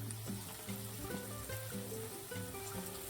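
Onions, garlic, green chillies and capsicum sauté in a pan on full gas flame, a soft steady sizzle with a hum, loud and close throughout. Cumin and asafoetida are already in the oil for besan bhurji.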